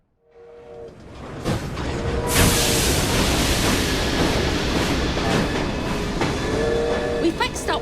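Video game train from Assassin's Creed Syndicate in Victorian London, starting up with a heavy rumble that swells into a loud, continuous rolling roar with clattering and hissing bursts, near and sustained.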